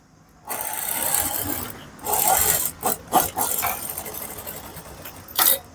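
A sewing machine stitches fabric along a marked line in short, uneven whirring runs with brief stops, close by.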